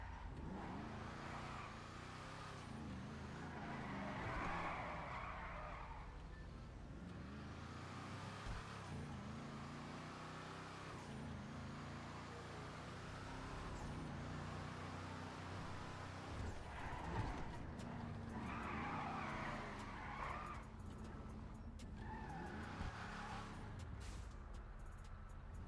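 Car in GTA Online driven at full throttle, a steady engine drone with road noise running throughout, swelling in a few louder bursts, with brief voice-like sounds now and then.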